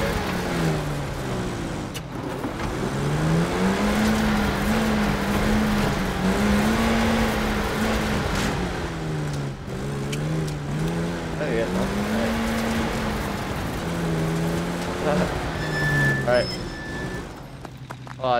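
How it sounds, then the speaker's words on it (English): A car engine in Battlefield V drones loudly and continuously, its pitch rising and falling as the vehicle is driven and turned around, with a player talking over it. "I'll turn the car around."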